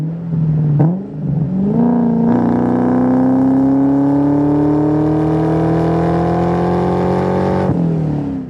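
A Procharger-supercharged 4.6 V8 in a 2003 Ford Mach 1 with a 5-speed pulls hard through the revs, its loud engine note climbing steadily from inside the car before a brief shift-like break at the end.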